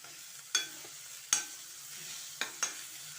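Sugar is stirred in a pan on a stove, with four separate scraping strokes of a spoon over a soft, quiet background sizzle, close and otherwise calm.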